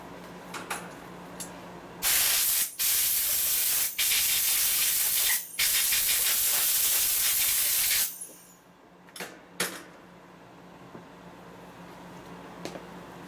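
Cleaner is sprayed onto the rollers of a 1972 Harley-Davidson XL Sportster 1000cc Ironhead engine during a rebuild, in several loud close hissing bursts of about a second or two each, followed by quieter handling clicks.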